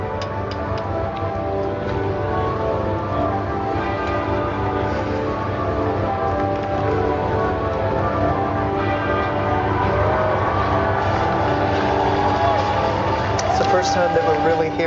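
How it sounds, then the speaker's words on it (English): Church bells toll over a steady, crowded outdoor ambience during Queen Elizabeth's funeral procession, their ringing tones sustained and layered beneath a low continuous rumble, with a voice speaking over them. "The majestic tolls of the bells."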